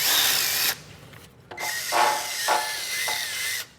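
A power tool spins a nylon bristle brush in bursts, whirring loudly, cutting out briefly, then grinding back up with rising and falling scrubbing pitch.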